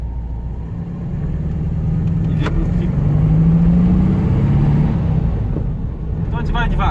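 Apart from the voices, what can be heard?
1986 Volkswagen Beetle engine running while driving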